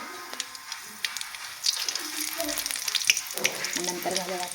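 Mustard seeds and cumin hit hot oil with a bright crackling sizzle, scattered pops and spits building as it continues, close and fairly loud.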